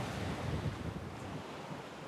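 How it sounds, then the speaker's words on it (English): Ocean waves surge and wash steadily at sea off South Africa, a broad rushing roar mixed with wind noise, swelling slightly and then easing, with no voices. "just listen to the sound of the ocean."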